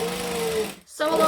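Home sewing machine stitching forward and then back-stitching at the corner of a hobo bag, a quick rhythmic mechanical whir that breaks off briefly and starts again.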